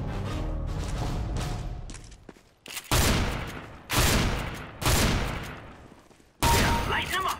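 Rapid bursts of gunfire in Counter-Strike: Global Offensive, several loud sustained volleys separated by short pauses, with background game noise and a voice briefly audible.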